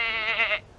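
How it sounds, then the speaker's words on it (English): A single short bleat, close and clear, from a goat among argan trees, where goats climb the branches to eat the fruit. "There's goats that literally climb up the trees to get the argan fruit."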